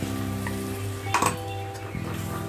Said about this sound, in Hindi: ये मिक्सर का पानी मसाला ये हम डाल देते हैं।